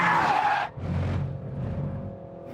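A Renault Megane hot hatch corners hard on a test track, tyres squealing loudly for a moment before the engine drones on as the car drives out of the bend.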